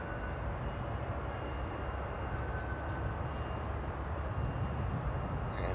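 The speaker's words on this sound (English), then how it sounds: "the Saudi cargo Queen coming in from Jeddah, landing on runway 36 right" Saudi cargo jet inbound from Jeddah landing at Amsterdam airport on runway 36 right, heard as a steady, broadband roar that stays even and fairly distant throughout, with no voices.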